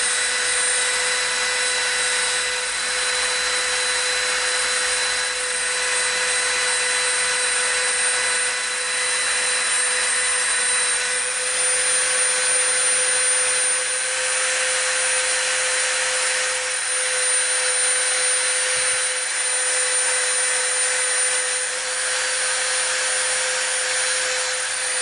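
Rotary tool fitted with a skinny bit rounding the edges of an EVA foam handle, a steady high-pitched whine held for the whole stretch with faint grinding texture and no talk.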